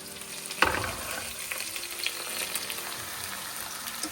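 Tomatoes, onions, red and green peppers, olives and garlic frying together in a pan, a soft continuous sizzle with one sharp utensil knock early on, then low crackling and light stirring, quiet and close.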